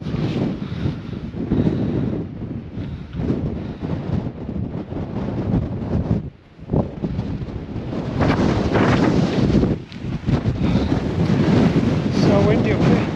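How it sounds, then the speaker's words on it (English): Strong, gusty wind on an exposed hilltop during a winter mountain race buffets the microphone in a constant low roar, with a short lull midway before the blustering returns at full force. "So windy up here."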